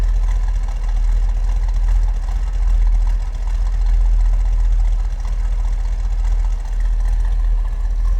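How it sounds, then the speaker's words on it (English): A 1972 Chevrolet Corvette convertible with a small block engine idles with a deep, throaty exhaust rumble, loud and steady with a slight rhythmic pulse, heard close from the rear of the car. "Nice little rumble coming out of that small block."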